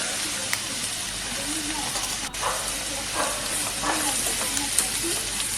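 Browning onion and garlic paste fry in oil in a pan for a prawn chutney, giving a steady, close hiss broken by scraping stirs with a spoon.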